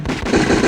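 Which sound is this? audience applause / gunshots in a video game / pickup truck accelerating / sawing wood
gunshots in a video game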